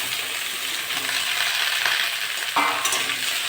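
Okra tipped into a pan of frying potatoes and onion, a continuous sizzle broken by a few light clinks and scrapes of a utensil as the pieces go in and are stirred.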